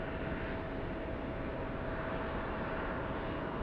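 Airliners on parallel arrivals to SFO's runways 28 make a steady, moderately distant jet roar, a continuous broadband rumble with a faint tonal whine running evenly throughout.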